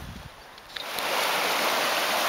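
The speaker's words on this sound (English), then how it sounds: "there's still a very good flow of water" A mountain stream in Soledad Canyon flows strongly after rain, a steady broadband rush of water that swells louder and stays constant, close by with no voices.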